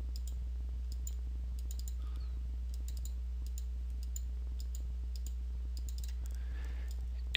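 Computer mouse clicks sound during dental CAD design work, a scattered series of sharp, close ticks at irregular intervals over a steady low electrical hum, with no talking.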